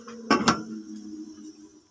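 Two quick metallic clanks as a lid settles onto a pot of boiling sinigang with okra and eggplant, followed by a fading ringing hum.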